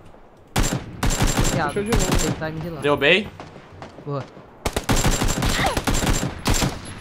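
Rapid bursts of automatic gunfire in PUBG, loud and close, firing in two dense clusters around a stretch of excited talk; players speak over and between the shots.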